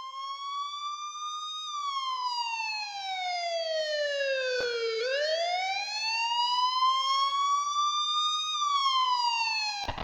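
A police car siren wails alone in a slow rising and falling cycle, clean and steady throughout, a sound effect in a children's audiobook story with no voices over it.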